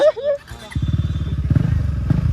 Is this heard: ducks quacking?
no